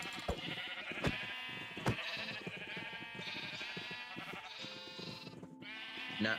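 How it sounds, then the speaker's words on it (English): Several sheep bleat in a lively, overlapping chorus with sharp clicks and thumps between cries, moderately close. "This is just a wild sheep from earlier."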